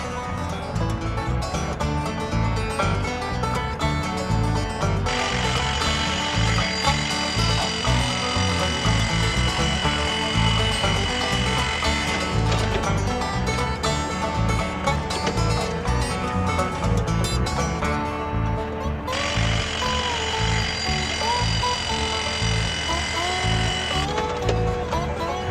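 A TEI excavator-mounted hydraulic rock drill running continuously, a loud, steady mechanical drone with rapid percussive chatter and a shifting whine, holding at a constant level for over twenty seconds with no talk.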